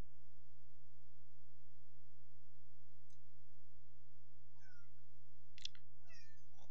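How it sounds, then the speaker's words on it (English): A house cat gives a couple of short, faint meows and chirps near the end, over a steady electrical hum and soft clicking. "Sorry, my cat's being a pain in the butt."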